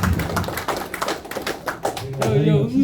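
A lecture audience claps briefly, with uneven scattered hand claps and taps, and a voice speaks near the end.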